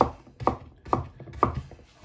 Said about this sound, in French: On taille les légumes. Hop, les courgettes en deux.